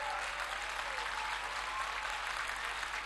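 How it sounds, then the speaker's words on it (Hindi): An audience at a Hindi comedy and poetry show claps steadily, a full, even burst of applause lasting a few seconds with no voice over it. "अगर मैंने ठीक कह दिया हो तो एक हाथ भी कोताही मत बरतना तालियों में"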